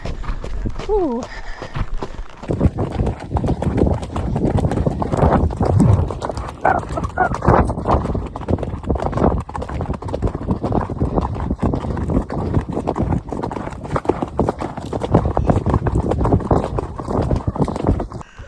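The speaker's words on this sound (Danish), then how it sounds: "Jeg tør ikke lige at galopere ned ad bakke." Horse hooves clip-clop steadily downhill during a ride to the beach, a continuous close walking rhythm with a voice talking over it.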